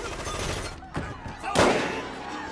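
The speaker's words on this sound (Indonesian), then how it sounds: "Namun di tengah baku tembak, Goy, Wick, dan John ikut campur" Gunfire during a shootout in a Jet Li movie about a Yakuza gang, with a few sharp shots cutting through a dense, loud soundtrack and one heavy burst standing out near the end.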